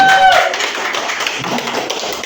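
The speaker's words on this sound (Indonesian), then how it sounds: "Tepuk tangan dulu sendiri." Audience at a health seminar claps briefly, a busy patter of many hands that starts loud and stays steady for about two seconds, with a short tone at the start.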